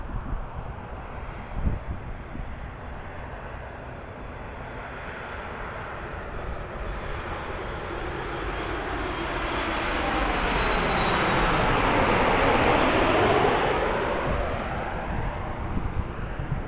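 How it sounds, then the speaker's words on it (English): A Ryanair Boeing 737 MAX 8-200 jet comes in to land at Lanzarote, its engine roar swelling steadily as it nears, peaking loud overhead around the middle, then easing slightly, with wind noise throughout. "It's a Ryanair RYR1JL Boeing 737 MAX 8200. And this one's coming in from Bristol."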